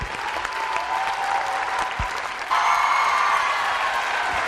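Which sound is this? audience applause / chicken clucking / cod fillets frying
audience applause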